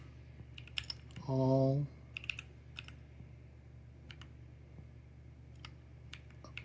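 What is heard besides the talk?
typing on a computer keyboard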